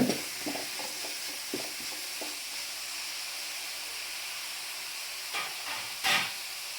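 Tamarind masala sautéing in a pan for fish head kulambu, a soft steady sizzle and steam hiss with a few scattered stirring scrapes and clinks, louder near the end.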